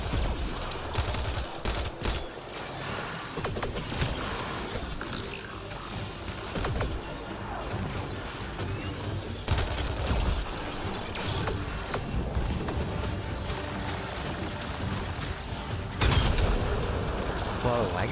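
Rapid automatic gunfire bursts from a sci-fi shooter, Mass Effect: Andromeda, crackling repeatedly over game ambience and mechanical clatter, with a player's voice talking at times.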